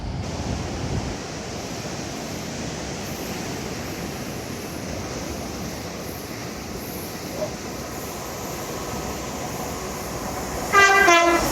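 Seaside railway train giving a short horn toot near the end, sharp and fairly close, over a steady background of rolling wheels and surf-like rumble.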